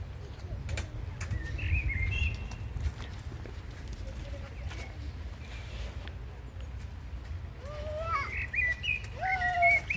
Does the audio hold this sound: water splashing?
no